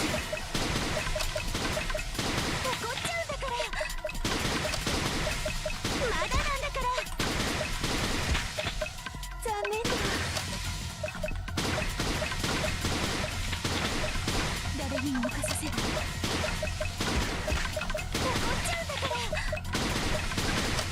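Gunfire from the video game Super Danganronpa Another 2 comes in dense, rapid bursts over loud, continuous game sound and music, with a player talking occasionally.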